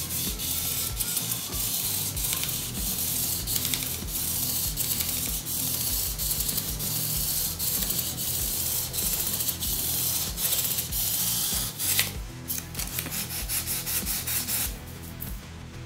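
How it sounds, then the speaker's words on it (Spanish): Guitar fret ends are sanded gently and continuously with a fret polishing tool, giving a steady close rasping rub with rhythmic strokes that keeps going, alone and without talk. "Suavemente vamos lijando los extremos del traste."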